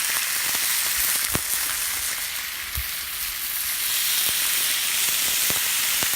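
Bacon-wrapped pork sirloin steaks, seasoned with salt and pepper, sizzle loudly in a warm pan, a steady close frying hiss broken by occasional sharp pops, with no voices.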